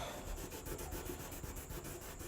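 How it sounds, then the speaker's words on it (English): A towel rubs paint straight off a surfboard in quick, steady back-and-forth strokes. The scrubbing is soft and close, with an even rhythm and no talking. "even just using a towel, I can just sit there and rub the paint straight off the board"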